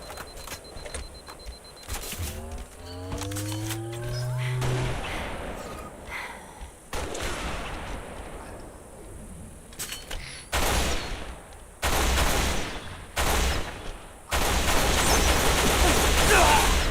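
Sniper rifle shots in a Halo match, several sharp bursts spaced across the clip, mixed with game effects and announcer-style audio.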